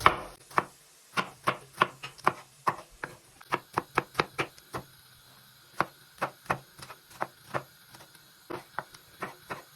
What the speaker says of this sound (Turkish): Hemen bu aşamada sarımsaklarımı incecikte doğruyorum